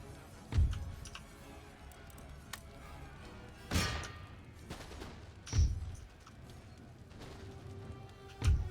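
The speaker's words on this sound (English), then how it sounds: "they should be firing out those windows into that" Musket volleys crackle in the Empire Total War video game, with several separate sharp bursts spaced a few seconds apart over a quieter bed of background battle noise.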